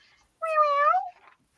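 A pet cat gives a single clear, drawn-out meow close by in a quiet room, lasting about half a second, with no talk over it.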